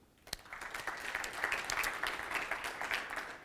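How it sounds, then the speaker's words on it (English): Audience applause at a software engineering conference in London, a dense wash of clapping that swells after a brief quiet start and holds steady, moderately loud and without voices. "So let's give them a round of applause."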